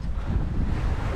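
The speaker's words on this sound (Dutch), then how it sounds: "En het is een hele knobbelige zee nog steeds" Choppy, lumpy sea washing against a sailboat on the Norwegian coast near Bodø, with broad, steady wind noise buffeting the microphone throughout, no voices.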